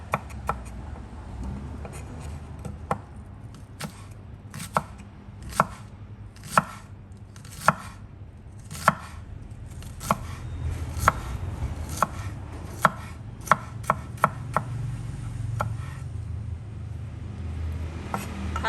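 Sharp knife chops through shallots on a cutting board, single strikes at first, then quickening into a steady rhythm of taps, close and clear against faint background hum.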